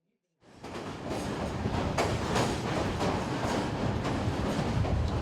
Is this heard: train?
yes